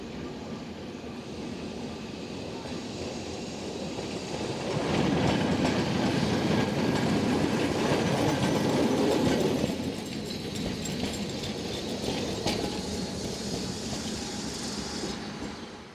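A restored historic streetcar, Car 21, rolls along rebuilt rails, a continuous rumbling rattle with clicking wheels and a swell of louder clatter in the middle, heard from on board.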